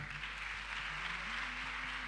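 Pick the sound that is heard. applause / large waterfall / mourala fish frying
applause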